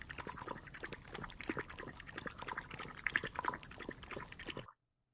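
A dog laps water in quick, rhythmic wet slurps, close and fairly quiet, continuing steadily for about four and a half seconds before stopping abruptly.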